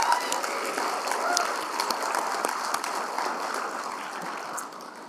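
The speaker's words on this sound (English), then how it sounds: "Let's give another round of applause to Miles" Audience at a Tarleton State University leadership and service awards ceremony applauding award recipient Miles: a full, even round of clapping from a sizable room, held steady and easing slightly near the end.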